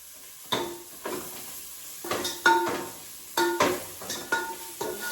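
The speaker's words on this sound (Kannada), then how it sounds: "ಸಾಂಬಾರು ಪುಡಿ ಹಾಕೊಂಡಿದ್ದೀನಿ ಈಗ, ಅದು ಸ್ವಲ್ಪ ಫ್ರೈ ಮಾಡೋಣ." Sambar powder fries in a pot for bottle gourd sambar while a spoon stirs, giving repeated close metallic scrapes and clinks in an uneven rhythm over a soft underlying sizzle.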